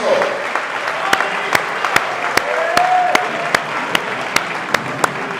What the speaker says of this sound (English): Big round of applause for Doug.